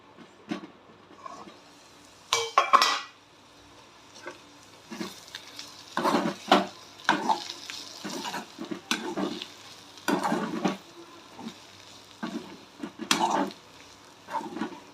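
Small bitter gourd poriyal stir-fry cooking in a pan, with intermittent sizzling and frying crackles plus occasional stirring scrapes, moderately close and with no talking.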